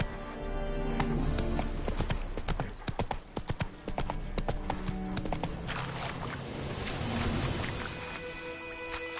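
The horse Roach gallops in The Witcher 3 game, hooves pounding in a quick, loud clip-clop rhythm with a brief whinny, mostly alone apart from a few spoken words.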